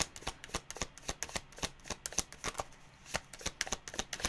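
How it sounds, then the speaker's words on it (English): Tarot cards being shuffled: a rapid run of crisp, papery riffling snaps in a steady patter, close and clear with no voices. "Can you have another card, please?"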